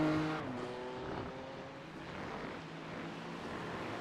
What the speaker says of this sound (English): Rick Bundren in the Aston Martin with Jason Phillips coming around the outside, going through the carousel, headed down towards the chute.